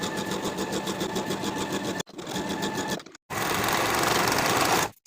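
A sewing machine sews a side seam of a half-zip sweatshirt at a 3/8 inch allowance in loud, close, continuous runs, stopping briefly twice before a long final stretch.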